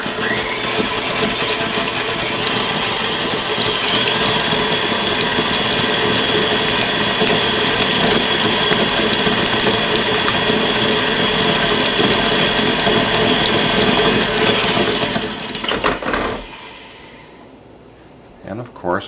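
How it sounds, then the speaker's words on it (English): An electric mixer beats two sticks of unsalted margarine in a bowl for buttercream icing, a loud steady whirring drone that runs continuously before cutting off near the end. "We have 2 sticks, which is 1 cup of unsalted margarine in the beater, and we're going to beat it until it's light and fluffy"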